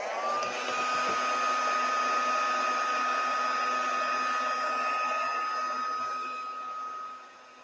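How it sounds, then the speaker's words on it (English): A heat embossing tool blows hot air in a steady, close whirring hiss with a faint tonal whine, running continuously for several seconds before it drops off quickly at the end. "we will use our heat tool and we will heat that one and emboss it"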